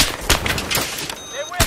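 Gunfire in Battlefield 3 during a Conquest match: several sharp shots cracking out in a loose, uneven rhythm over a constant din of battle.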